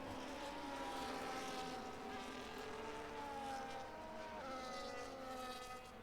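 Several race cars drone steadily in a Can-Am Tier 2 sim race, engine notes overlapping and shifting in pitch as one car peels off into the pits on old tyres, a continuous loud mechanical hum with no talking.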